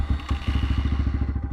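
Kayo K6-EFI 250 fuel-injected dirt bike engine running just after starting, a steady close idle with a rapid, even low thumping pulse and faint mechanical clatter, no talk.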